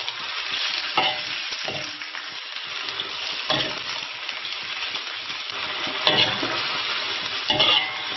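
Chicken pieces with spices stir-fry in a wok on a rural wood-fired stove, giving a loud, continuous close-up sizzle broken by repeated scraping and tossing strokes of a spatula, with no voices.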